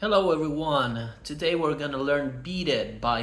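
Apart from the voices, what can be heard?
None of the usual background noises is heard.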